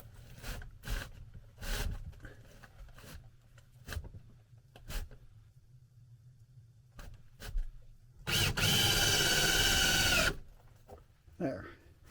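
Power drill or driver screwing a side piece of a workbench built from sawmill lumber into place, one steady loud whirring burst of about two seconds amid scattered knocks and handling sounds nearby.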